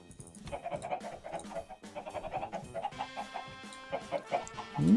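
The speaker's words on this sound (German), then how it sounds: "es geht mir die Hühner da im Hintergrund auf die Nüsse" Minecraft chickens clucking steadily for several seconds amid a busy game soundscape, with other animal-like calls and a rising tone at the very end, no voices.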